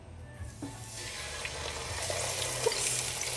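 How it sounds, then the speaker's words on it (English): Fish for Filipino sweet and sour escabeche is lowered into hot oil in a non-stick pan, giving a steady broadband sizzle that swells and grows louder over a few seconds, with no talking. "I'm going to drop the fish gently into the oil, and we're going to fry it till it's crispy"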